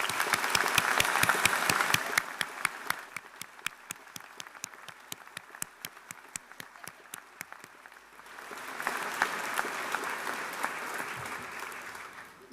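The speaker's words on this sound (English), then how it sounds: "I would like to give them a round of applause" An audience applauds in a hall, opening with dense clapping that thins to a few slow, spaced claps before swelling again into a steady, fuller round of applause.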